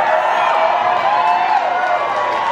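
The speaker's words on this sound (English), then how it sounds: "Oh, don't start clapping now." An audience at a benefit guitar auction claps and cheers in a dense, continuous wash of applause and whoops that fills the room loudly for the whole moment.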